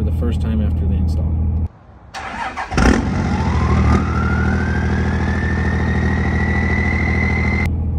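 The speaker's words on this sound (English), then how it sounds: "here's a clip of me starting up the truck for the first time after the install" A second-generation Cummins 5.9 diesel truck with a newly installed Fleece Cheetah turbo cranks and fires with a loud burst, then settles into a heavy, rumbling idle. A rising turbo whistle climbs steadily above it, close and clear.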